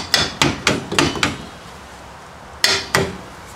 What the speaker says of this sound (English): Couple of light taps.